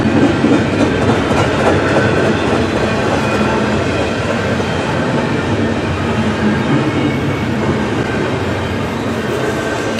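A freight train led by a rebuilt GE C40-9W locomotive passes close by, a loud, steady rumble of rolling cars with rhythmic wheel clatter and faint squeals throughout.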